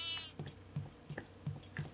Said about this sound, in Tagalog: May kambing dito sa basement.